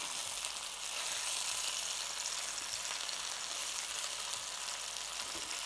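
Soy seitan sausages fry in a pan with a steady, even sizzle and crackle that holds at a constant level throughout, with no voices.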